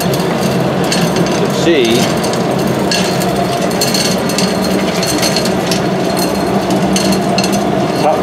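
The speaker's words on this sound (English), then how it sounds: "the ashing gadget is working right now since the temperature's really low" Anthracite coal boiler's ashing mechanism (Axeman Anderson AA130) running at low temperature, with a cog turning and ratcheting: steady close mechanical clatter and knocking throughout, with brief speech over it.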